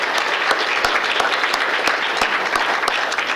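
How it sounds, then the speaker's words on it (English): A room at a mayor's employee recognition awards event breaks into a loud, dense round of applause for airport employees, steady crowd clapping filling the whole short stretch with no voices over it. "how about a round of applause for those individuals?"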